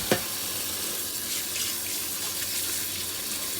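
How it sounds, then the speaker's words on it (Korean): Cucumbers washed under a running kitchen tap, a steady rush of water splashing into the sink after a brief knock at the start, with no talking. "그래서 그냥 물로만 깨끗하게 두세 번 헹궈 주시는 걸 권하겠습니다."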